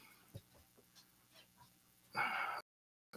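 A dog makes a few faint whimpers and soft yips, then one louder burst of sound near the end, followed by a brief cut to silence.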